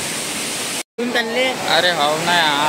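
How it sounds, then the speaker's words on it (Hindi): Muktagiri waterfall roars as a steady, broadband rush of falling water that fills the scene, briefly cutting out, then continuing beneath excited voices talking over it. "ये देखो ये मुक्तागिरी वाटरफॉल।"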